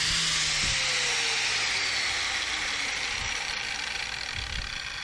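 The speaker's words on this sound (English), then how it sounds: "we're just going to clean up this edge right here. Give it a little taper." A power tool grinds and whirs continuously as it cleans up and tapers the edge of a pipe during restoration work on a ZR2 Blazer, loud and close with a descending pitch trace and occasional low thumps.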